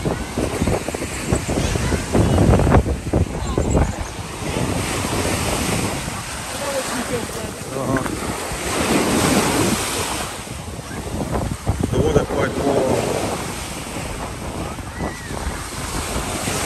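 Surf breaking on the wide Stavros beach in Greece, a steady wash of waves with wind buffeting the microphone, swelling and easing over several seconds.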